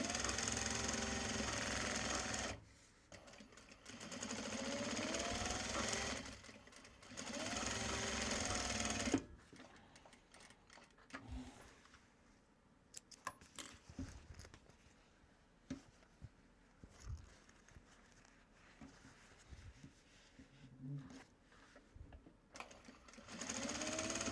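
A sewing machine stitches a Japanese fabric bag in three quick runs of rapid mechanical whirring, then falls quiet apart from faint scattered handling clicks and knocks.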